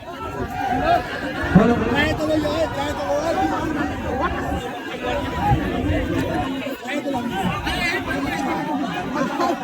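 Dense crowd at an election nomination event in Siwan, a loud continuous babble of many voices and shouting close around, with no single voice standing out.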